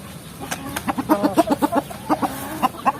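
Several free-range Indonesian village chickens cluck in a rapid, overlapping series of short calls, fairly close, with a few sharper squawks mixed in.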